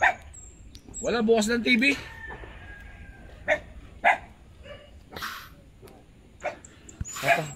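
A dog in a residential street in Laguna barks a few short sharp times, intermittent and fairly close, between bursts of someone talking.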